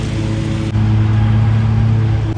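A lawn mower runs steadily and loudly up close, its engine holding a constant fast drone with a brief dip partway through.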